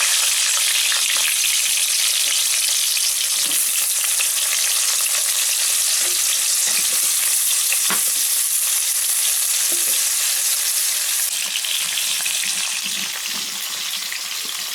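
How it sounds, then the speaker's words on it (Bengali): Pointed gourd and potato pieces fry in hot oil with a steady, even sizzle that holds close and loud throughout, broken by a few soft stirring scrapes and no talking. "পটল আলুটা ভেজে নিচ্ছি।"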